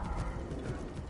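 Horse hooves clip-clop steadily in the video game Assassin's Creed Origins, a continuous rhythmic trotting patter at moderate level throughout, with no talking.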